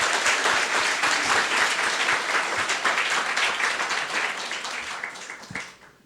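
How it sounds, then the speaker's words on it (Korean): A church congregation applauds warmly during a worship service, a dense, steady wash of many hands clapping close by that holds for several seconds before tapering off at the end. "여러분 모두에게 다시 한번 뜨거운 박수를 드리고 싶습니다."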